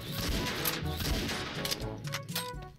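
Gunfire in the shooting game XSHOT: loud, rapid bursts of shots close together with crashing impacts, filling the whole short stretch.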